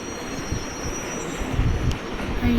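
A train rumbles past in an Indian bike 3D video game, a steady close roar of rolling wagons with brief wheel squeals and clatter throughout.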